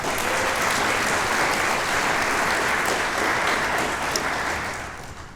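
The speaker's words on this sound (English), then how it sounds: "Another round of applause for the commissioner staff." Steady, dense applause from a banquet audience at a Scouting Good Egg award dinner, clapping for the commissioner staff; loud and continuous, tapering slightly at the very end.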